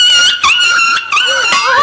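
A voice imitates small dogs yelping, with three quick, high, whiny cries in a row, loud and close, with no other sound around them.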